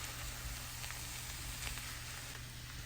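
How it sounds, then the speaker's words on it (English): Fried rice seasoned with black pepper and spice is tossed in a hot pan, producing a steady, dense sizzle with faint stirring scrapes throughout and no speech. "Then we mix it."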